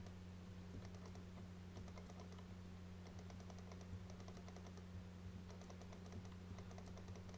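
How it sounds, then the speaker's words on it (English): Keyboard and mouse clicks from a player absorbed in Terraria, quick bursts of faint close clicking in irregular clusters over a low steady hum, with no talk. "I'm sorry for all the clicking."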